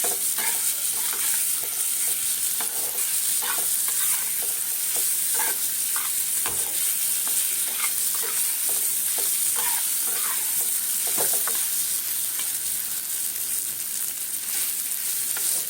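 Paneer frying in butter in a pan on low heat, a continuous close sizzle with repeated soft scraping strokes of stirring and no talk.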